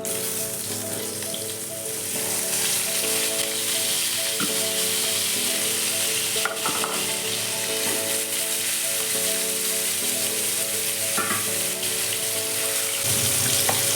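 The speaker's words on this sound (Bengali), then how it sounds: "এবার আমি আলুগুলো ভেজে নেব" Potatoes frying in oil in a pan give a steady, close sizzle that holds evenly for the whole stretch, with a few faint clinks and stirring sounds over a low, regular background hum.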